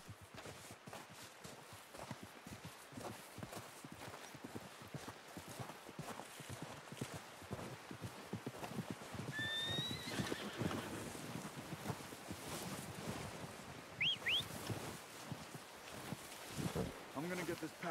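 Horse hooves clip-clopping in the video game Red Dead Redemption 2, a steady run of soft hoofbeats with wind noise beneath and someone talking over them, plus a couple of brief high squeals partway through.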